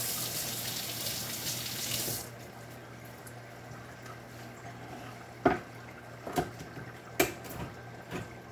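A kitchen tap runs over chicken gizzards as they are washed, a rushing spray that stops abruptly. It gives way to quiet handling with a few soft knocks and clatters.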